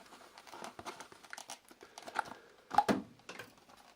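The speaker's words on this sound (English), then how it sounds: "It's a blister pack, which I don't like." Scissors snipping and crinkling through a plastic blister pack around an HDMI cable, with quiet irregular rustles and cuts close by and one louder crackle near the end.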